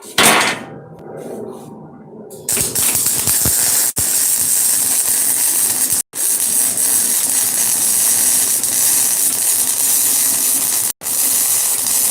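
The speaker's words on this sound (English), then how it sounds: "So we're just gonna weld this one all the way around" Flux core wire welding run all the way around a joint, a steady loud crackling hiss that sizzles on without pause for several seconds, broken by two brief stops.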